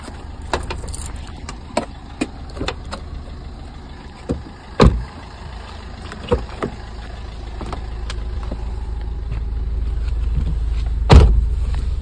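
A low, steady engine rumble from a car moving slowly in first gear, with scattered clicks and a couple of heavier thumps along the way.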